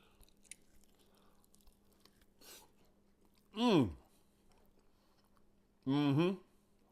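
Someone bites and chews a barbecued beef rib, with faint, wet chewing sounds broken by two louder voiced murmurs of appreciation.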